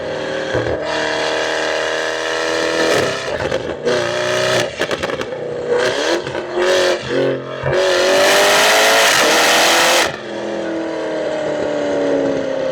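Tuned 2025 Porsche Cayenne GT Turbo SUV engine accelerating hard in loud, sustained pulls with rising tones, broken by brief shifts and a full-throttle surge before easing off.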